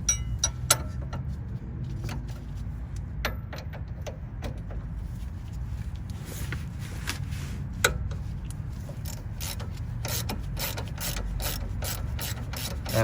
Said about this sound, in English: we'll grab a 19 millimeter on our breaker bar. Then we'll loosen up the bottom of the strut.